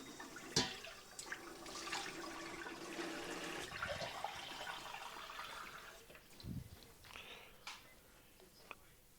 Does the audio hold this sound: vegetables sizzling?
no